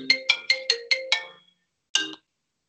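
A phone ringtone for an incoming call plays six quick, bright electronic chimes in a steady rhythm, then pauses briefly before one more chime, clear and alone with no talk.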